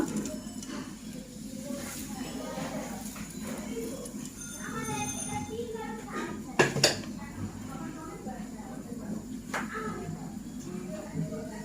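Fried potatoes and crisp fried onions tumble into a cooking pot of mutton, with clattering pot and utensil knocks and a couple of louder clanks midway over steady kitchen background; a voice speaks throughout.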